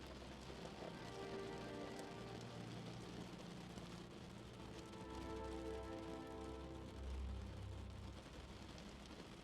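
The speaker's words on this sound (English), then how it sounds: "With the sound of each raindrop, your mind tunes out and into sleep." Steady rain falling and tapping on a window, a dense continuous patter at an even level throughout, close and alone with no voices.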